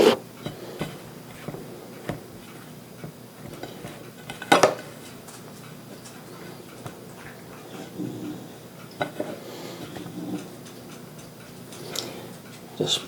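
Five- to six-ounce salmon fillets are set into a cold pan in a kitchen, soft scattered taps and clinks of metal and utensils, with one sharper clatter, quiet and close with no talking.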